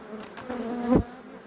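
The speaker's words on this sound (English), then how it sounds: "I keep getting these vibrations in my palm where a bee has gotten under my tool. It's just buzzing away." A bee trapped under a handheld tool buzzes close and loud, a sustained droning hum that rises to a sharp peak before easing off, heard alone.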